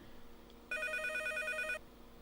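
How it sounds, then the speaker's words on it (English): A telephone rings once in the video game Mizzurna Falls, a single electronic trill lasting about a second and standing out clearly from a quiet background. "it's so weird you can hear the phone."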